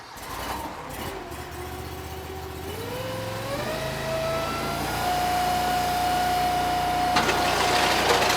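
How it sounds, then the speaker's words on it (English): A firewood processor's engine runs loud and close, its steady drone climbing in pitch in steps as it revs up, then holding at a high, even whine. "running the firewood processor"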